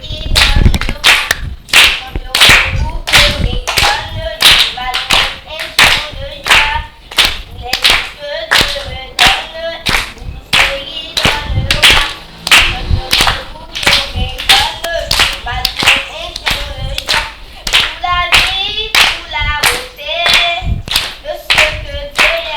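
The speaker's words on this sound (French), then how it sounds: "Donc, notre camarade, notre soeur, on va l'applaudir. Applaudissez." Kindergarten children at a girls' school in the Katiola diocese clap for a classmate, loud crisp claps in a steady unison rhythm throughout, with young voices chanting along between beats.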